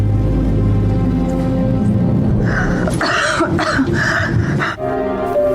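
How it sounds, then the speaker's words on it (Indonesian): Harsh coughing from someone who has choked on food breaks out in a few rough bursts over loud, steady background noise, close and forceful. "ia tersedak seketika hingga membuatnya terbatuk-batuk saat itu juga"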